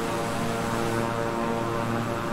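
A Beechcraft King Air 350i twin-engine turboprop in Microsoft Flight Simulator, a loud steady propeller drone with a constant engine hum and no variation, heard alone.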